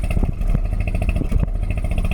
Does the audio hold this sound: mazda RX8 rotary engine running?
yes